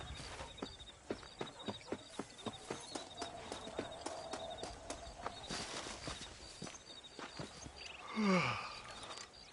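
Horse hooves clip-clop at a steady walking rhythm in Red Dead Redemption on PS4, a long run of even, close hoofbeats that thins out near the end, with no talking.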